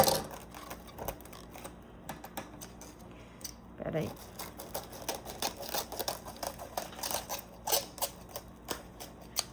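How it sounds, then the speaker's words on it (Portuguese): Scissors cutting plastic film while making a cake, a series of close crisp snips and crinkles spread across the clip, with a brief spoken remark. "Deixa eu usar a tesoura aqui."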